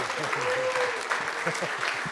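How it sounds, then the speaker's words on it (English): At a humanities forum lecture, an audience applauds for a professor, with brisk continuous clapping and a voice speaking briefly over it. "we hope you'll give a very warm round of applause to Professor Melnick"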